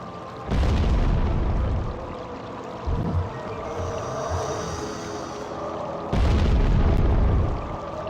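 Bomb blasts in the American McGee's Alice video game: two loud, deep booms several seconds apart, each with a broad rumbling body and fading tail, separated by quieter game ambience and a smaller thud.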